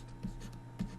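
Brief marker or chalk strokes on a lecture board, two short scratchy taps over a steady room hum.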